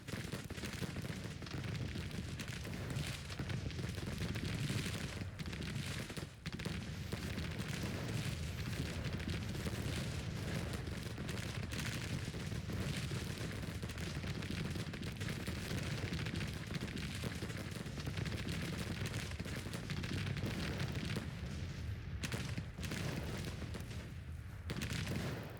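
Artillery fires close by in a Grand Tactician Civil War video game battle, mixed into continuous rumbling fusillades of gunfire. The thick, loud barrage barely lets up.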